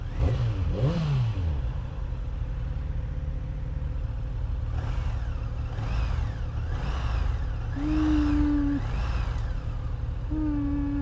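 A 2019 Kawasaki Z900RS Cafe engine rumbles steadily and revs up and down several times, pitch sweeping up and falling back, loud and close with no talking.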